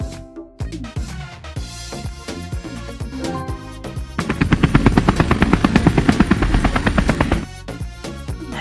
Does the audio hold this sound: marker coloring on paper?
no